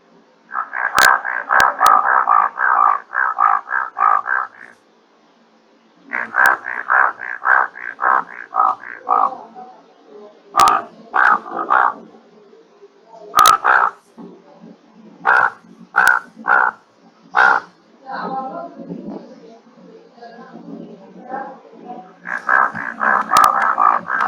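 Bullfrog from the Western Ghats calling in long runs of rapid, loud, repeated croaking pulses, with short pauses and scattered single calls between the series.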